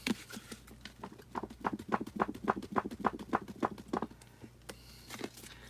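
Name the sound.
paint being scraped from the bottom of a paint barrel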